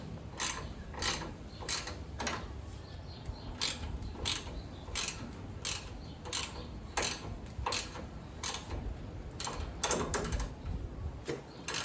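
A ratchet wrench tightening an aluminum bolt on an aluminum brake caliper bracket during a Wilwood disc brake install on a Tri5, a close, steady run of sharp clicking ratchet strokes in quick bursts, with no talk.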